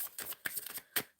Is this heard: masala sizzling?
no